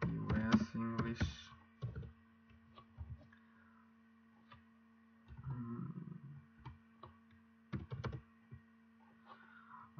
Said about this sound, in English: Then I'm just typing here US English